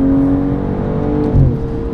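A 2022 BMW M240i xDrive under strong acceleration on track, loud steady engine drone with a shift in pitch near the end, close and alone.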